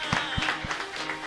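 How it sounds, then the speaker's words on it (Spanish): Studio audience applause greets a guest on a TV show, a short burst of scattered clapping over a busy room, with a voice speaking over it. "Un aplauso para Diego."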